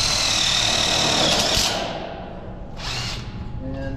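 Screw gun driving screws into 20 gauge metal studs while furring a wall, a close, loud high-pitched whine that runs steadily, drops off briefly, then surges again in short bursts with no talking.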